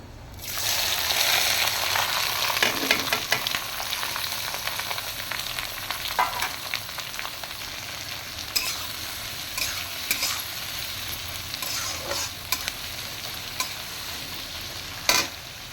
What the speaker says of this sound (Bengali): পেঁয়াজটা আমার খুব সুন্দর করে ব্রাউন করে আমি ভেজে নিব।